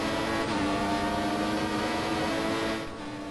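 A Formula 1 race car engine in the F1 2014 video game screams at a steady high pitch during a race, running a little too hot, a continuous loud drone that eases slightly near the end with no voices.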